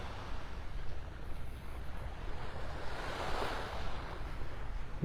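Small ocean waves wash steadily onto a beach at Delnor-Wiggins in North Naples, Florida, a continuous soft surf hiss with some wind noise on the microphone and no talking.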